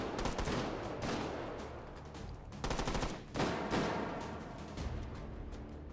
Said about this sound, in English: Who says I can't fire while reloading?